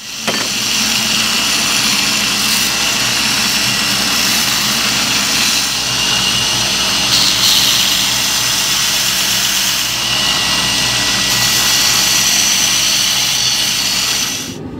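A belt grinder fitted with a coarse 36 grit belt roughs the profile and bevels of a knife made from an old sawmill blade, a loud continuous grinding whine that holds steady from start to finish without talking.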